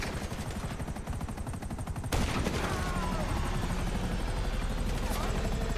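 A police helicopter in Grand Theft Auto V roars with a dense, steady rotor chop, loud and close, with bursts of rapid gunfire over it, and the noise swells sharply partway through.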